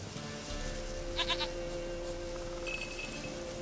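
A goat bleats in the video game The Witcher 3, a few short, wavering cries heard over quiet ambient game sound, with no talking over them.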